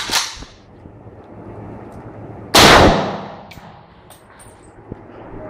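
An AK-47 rifle fires outdoors with a single loud, sharp crack and a short echoing tail, after a fainter snap at the start. Light background noise runs throughout.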